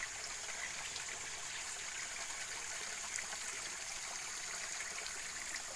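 A small stream flowing beside a village road in the early morning, a steady, soft rushing trickle of water that stays even throughout with no voices.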